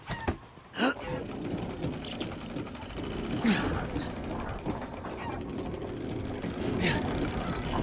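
A crank mechanism in the horror game Resident Evil Village turns with a steady ratcheting, gear-like clicking, sounding close and continuous for several seconds.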